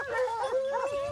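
Hunting dogs on a wild boar hunt give out loud, sustained howling and baying, with their voices overlapping and wavering continuously throughout.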